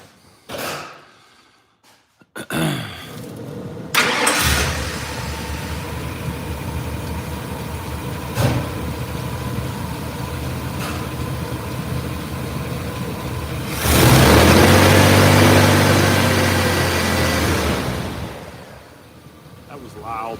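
A car engine cranks and fires after a few quiet seconds, then idles roughly with a rattly exhaust leak, swelling into a louder rev near the end before settling; nearby mechanical clunks punctuate the steady rumble.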